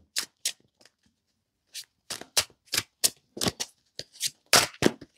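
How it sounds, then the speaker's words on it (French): Tarot cards are shuffled and drawn in a reading, a string of crisp riffling bursts and soft slaps up close, separated by brief pauses, with no talking. "On va faire un tirage tout de suite. On va voir quelle carte tombe."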